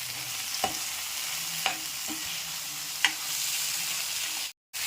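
Onions with ginger and garlic sauté in a pan with a steady, gentle sizzle, broken by a few sharp spoon taps and scrapes, before a brief cut to silence near the end.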